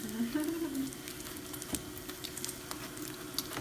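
Bacon crisping in a pan while shallots are prepared for a Brussels sprouts dish, giving a faint, steady sizzle with scattered light pops and crackles throughout.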